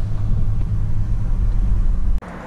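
A truck's engine rumbles steadily up close as it pulls into a lot, then cuts off abruptly near the end, leaving quieter background noise.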